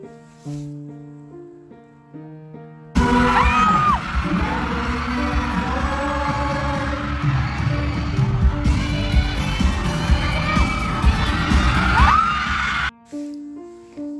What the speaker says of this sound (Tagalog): Tuwang-tuwa ang netizens, walang tigil ang hiyawan ng mga ito.